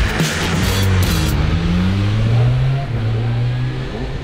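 A MotoGP motorcycle at speed on a fast lap of Phillip Island circuit, its engine howling loud and close with steady roaring pitch that rises and dips through gear changes, buffeted by wind noise.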